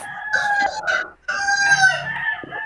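Chickens cluck and a rooster crows close by, loud cackling calls with a short pause between bursts and no voices.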